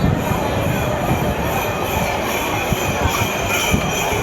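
A train rumbles steadily nearby at a crowded station with broad, constant noise and faint metallic squeals, no talking.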